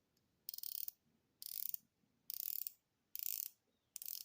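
A dive watch bezel clicks as it is turned in five separate bursts of quick ratcheting, each about half a second long with short silent gaps between, close and crisp in a quiet room.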